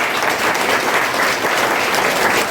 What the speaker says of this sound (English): big round of applause to the speaker